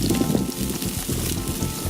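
Lobster coated in butter and garlic sizzles on a hot grill, a steady crackling hiss that holds loud and even throughout, with no voices.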